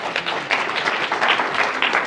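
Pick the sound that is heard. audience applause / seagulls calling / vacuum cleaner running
audience applause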